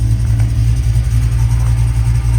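Car engine running steadily in first gear with the drive wheels spinning, freshly fitted with a new Tremec TKX manual transmission; a loud, continuous low rumble close by, no voices.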